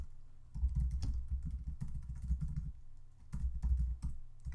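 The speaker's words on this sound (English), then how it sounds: "I can't type today" Rapid bursts of typing on a computer keyboard, close and fairly loud, with clustered keystrokes broken by short pauses and no talking.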